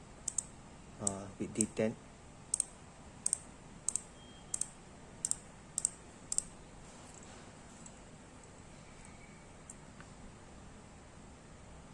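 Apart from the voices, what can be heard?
clicking spool tension knob on Ryobi Varius fishing reel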